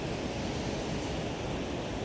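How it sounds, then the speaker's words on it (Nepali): A river rushing past a hot spring near the Tibet border in Tawang, heard as a steady, loud broadband wash of flowing water with no break and no voices. "त्यो खोला हेर्नुहोस्"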